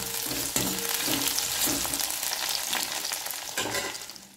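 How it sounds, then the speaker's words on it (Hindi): Okra frying with potato, onion and chilli in a pan gives a dense, continuous sizzle, close by, with occasional stirring scrapes, and no talking. "तो गाइस, अभी मैं फ्राई कर रही हूँ भिंडी।"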